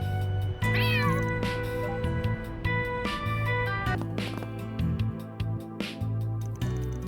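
Cats meowing in the video game Trails Through Daybreak, a couple of short rising meows near the start over steady game music with punchy percussive hits.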